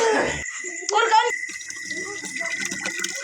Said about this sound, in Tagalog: Agas na ang tubig guys, kay schedule man karon.